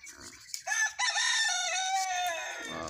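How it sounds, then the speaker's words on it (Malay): A live village rooster crows one long, loud cock-a-doodle-doo that rises and holds before trailing into a few softer clucks, heard alone and fairly close. "Bunyi kokok ayam hidup di kampung macam ni lah."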